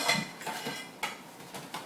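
Dishes and plates clatter and clink in a house being cleared out, several sharp knocks and scrapes spread irregularly over a steady background.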